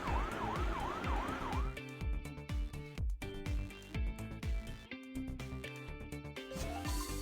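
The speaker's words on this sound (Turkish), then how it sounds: "İtfaiye arabası." A wailing fire truck siren from a children's car repair game rises and falls in quick sweeps at first, then gives way to a bouncy, cheerful music loop with repeated beats, no talking.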